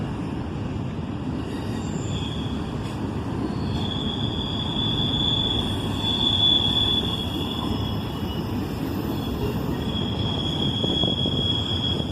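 A CSX intermodal freight train with a distributed power unit rolls steadily past, a continuous rumble of wheels on track with faint metallic squeals drifting in and out.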